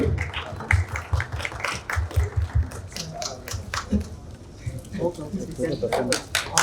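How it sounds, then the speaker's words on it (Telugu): Audience applause at a movie trailer launch event, with bursts of clapping fading in and out under a speaker's voice and some background talk. "ఒకసారి గట్టిగా చప్పట్లు."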